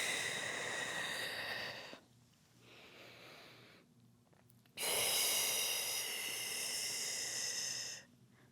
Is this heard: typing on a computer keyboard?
no